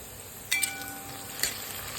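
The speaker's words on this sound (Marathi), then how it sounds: "आता आपण कटिंग केलेला बटाटा टाकून घेऊ आपला बटाटा फ्राय होतो" Cut potatoes for sabudana khichdi fry in oil in a pan, a faint steady sizzle with a couple of soft metallic clinks from stirring.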